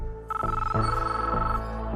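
A cell phone rings in The Matrix, sounding a loud electronic tone in quick repeating pulses that shift pitch in steps, heard alone for about two seconds.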